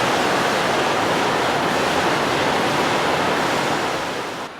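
Frank Falls, a waterfall with rapids in the Temagami wilderness, roars as a loud, steady broadband rush of water, close and continuous throughout.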